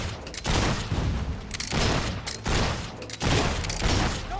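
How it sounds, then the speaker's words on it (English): Gunfire in the video game Fable 3 comes as dense, loud bursts of rapid shots, several volleys with brief gaps between them. "Stop all that shooting nonsense."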